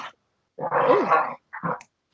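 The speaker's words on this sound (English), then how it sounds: "it's just a puppy. They're just playing rough." A puppy playing rough gives a short, close growl followed by a second briefer grumbling growl, with silence in between.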